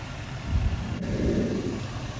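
A car engine runs at idle in daylight, a low steady rumble with slight swells, heard close and without speech.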